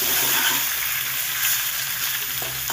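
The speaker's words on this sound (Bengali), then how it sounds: "পনিরগুলো সুন্দর করে আমি ঘিয়ে ভেজে নেব" Paneer pieces frying in hot ghee in a pan, a steady, close, loud sizzle that keeps going without pause.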